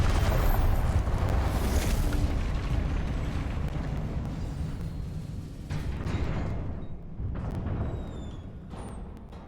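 In Hogwarts Legacy, a Confringo blasting spell erupts with a loud booming explosion that rumbles and fades over several seconds, followed by smaller crackling bursts and a few faint chimes.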